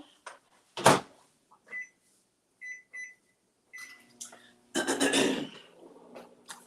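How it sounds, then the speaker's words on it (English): A microwave oven heats a mug treat, with a sharp door clunk, short electronic beeps from the keypad, and a louder rumbling burst as it starts, all close by with quiet gaps between. "this is going to go in the microwave for 1 minute"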